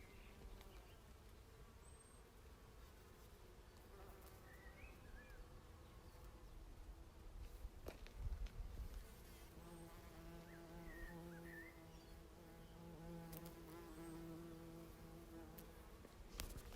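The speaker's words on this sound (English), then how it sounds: "lots of bees here. I'll see if you can hear them." Bees hum softly and steadily around blackberry flowers outdoors, a faint, continuous drone with occasional birdsong far in the background.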